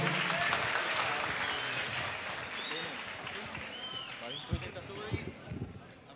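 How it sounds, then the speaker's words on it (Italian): An audience at an Italian school event for ecological transition gives dense, sustained applause that gradually fades. A few voices and stray claps mix in near the end. "un applauso"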